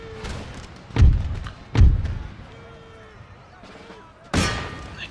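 Musket volleys in a Napoleonic-era strategy battle, three heavy booming bursts roughly a second apart followed by a later crackling volley, fairly close, with someone talking over them.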